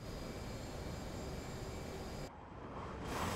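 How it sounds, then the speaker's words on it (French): A jet aircraft roars past in the DCS World flight simulator, a dense broadband rumble that briefly drops in level before swelling again, with no talking. "C'est l'avion qui est passé en dessous de moi là."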